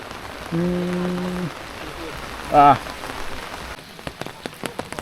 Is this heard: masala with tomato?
no